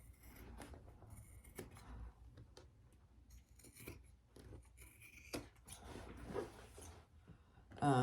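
Scissors trim excess fabric from a sewn bag seam with a series of quiet, close snips and rustles of cloth, irregularly spaced and continuing throughout.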